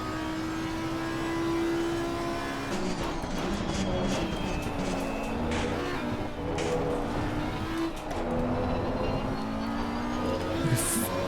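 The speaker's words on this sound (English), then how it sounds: "Listen to that early gear shift through second gear through there" Audi R8 Evo race car engine in Assetto Corsa Competizione at Zolder, a steady loud in-car drone with the pitch dropping at quick upshifts and rising again as it accelerates.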